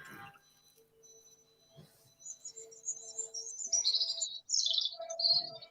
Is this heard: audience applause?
no